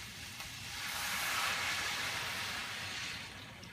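Chicken stock poured into a cooking pot for jambalaya, a steady soft splashing hiss that swells and holds for a few seconds, close and fairly quiet, with no talking.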